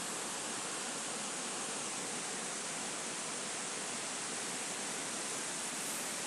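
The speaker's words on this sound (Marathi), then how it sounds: "तर या बाजूने हा मित्रांनो हा धबधबा एकदम ब्युटिफुल आणि एकदम खतरनाक धबधबा आहे" A waterfall with reduced flow after light rain makes a constant broad roar of rushing water, loud and unbroken for the whole stretch, with no voices.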